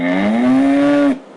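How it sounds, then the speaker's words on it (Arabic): A single long cow moo, loud and close, with a steady voiced tone that holds for about a second before cutting off abruptly into silence. "بقرة"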